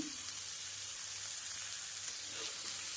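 Mango pieces sautéing hard over a high gas flame with a little salt and turmeric, giving a steady, close sizzle and frying hiss with no talking.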